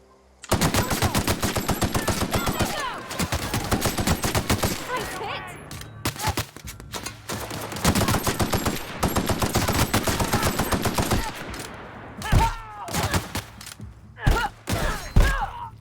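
Sustained automatic gunfire from a firefight in The Outer Worlds, loud, rapid bursts running through most of the stretch, with brief pauses and scattered single shots near the end, and a voice talking faintly under the shooting.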